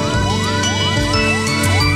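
An ambulance siren wails continuously and loudly in repeated rising sweeps, layered with a steady electronic tone and ringing, on a toll road in Semarang Regency.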